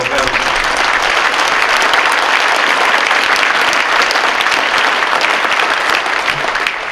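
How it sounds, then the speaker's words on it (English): A crowd at a military training trials event gives veterans a loud, sustained round of applause, thick and continuous for several seconds with a little crowd noise mixed in. "Round of applause for our veterans."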